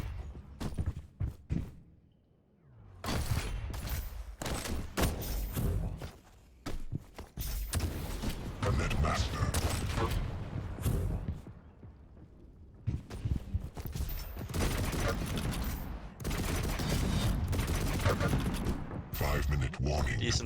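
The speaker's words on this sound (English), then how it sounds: "base is pretty much just popping these out at the maximum fire rate that it can do." Railgun shots fired at maximum rate during a Quake-style duel, a steady stream of loud broadband blasts and impacts across most of the stretch, with brief lulls and a commentator talking over the top.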